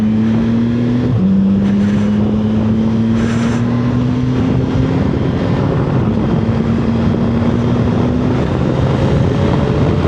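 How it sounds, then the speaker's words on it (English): A CFMoto 675SS with a straight three-cylinder engine runs steadily with a loud, continuous drone, its pitch stepping up after a second and then climbing slowly as it pulls along, with strong wind roar throughout and no talk. "The 3-cylinder sounds cool. A straight 3-cylinder sounds cool."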